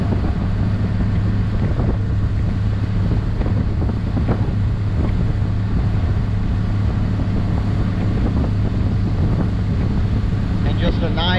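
A boat motor holds a steady drone as the craft pulls away smoothly at cruising speed on open water. Heavy wind buffets the microphone throughout and water rushes alongside.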